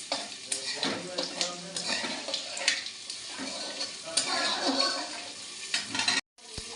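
Bay leaves, Bengali five-spice and a little sugar tempering in hot oil, a dense crackling sizzle with frequent spoon scrapes and clinks as the mixture is stirred, close and busy, cut off briefly near the end.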